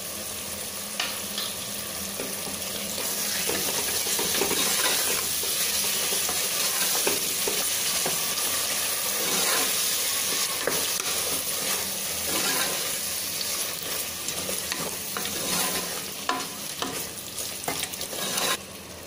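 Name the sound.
curd (yogurt) added to frying tomato masala for chicken biryani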